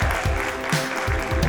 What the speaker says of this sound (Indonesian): Tepuk tangan tadi semua.